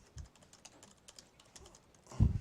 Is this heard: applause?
no